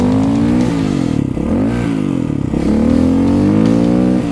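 A Yamaha TW200 motorcycle fitted with a 350 big bore kit, ridden in winter, revs up close and loud, its engine pitch rising and falling in repeated sweeps over a steady throaty idle.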